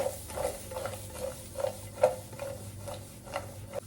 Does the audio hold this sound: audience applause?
no